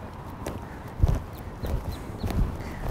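Horse hooves clip-clopping at a walk around a riding arena, a steady run of soft, fairly close thuds on a dirt surface with faint background noise.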